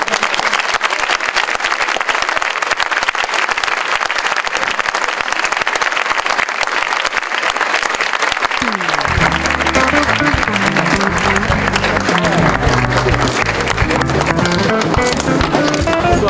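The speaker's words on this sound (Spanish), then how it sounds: "Por favor, aplausos de nuevo." Sustained audience applause at a panel inauguration honoring Mario Vargas Llosa at the Alianza Francesa de Lima, dense and loud, continuing steadily before music with a low rhythmic pulse rises beneath the clapping in the second half.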